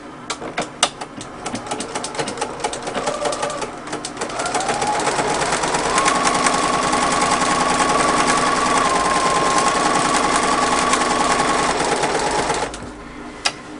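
A non-professional sewing machine stitches a bag handle strap, with a few short bursts first and then a long, steady, close whirring run of stitching before it stops.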